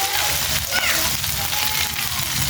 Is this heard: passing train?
no